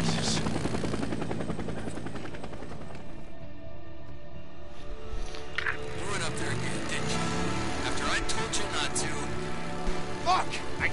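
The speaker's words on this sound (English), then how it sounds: "Oh, another chopper." A helicopter in the Days Gone video game flies overhead, a loud continuous rotor thrum that swells and shifts as it passes, with someone talking over it.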